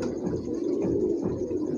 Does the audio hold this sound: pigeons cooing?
yes